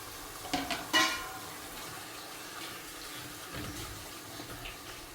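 Milk is poured into a pot of palak (spinach) curry as a soft, steady liquid trickle, opening with a couple of light knocks and continuing quietly to the end.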